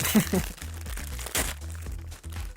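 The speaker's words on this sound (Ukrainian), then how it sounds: "І отже, відкриваємо першу лабубу." A sealed plastic Labubu blind box package is torn open, giving a few sharp crinkles and crackles while a person talks over them.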